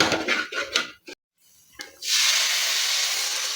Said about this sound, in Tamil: இந்த எண்ணெயிலே இந்த மசாலாவும் சேர்ந்து எண்ணெய் பிரிஞ்சு வர வரைக்கும் நல்லா வதங்கட்டும்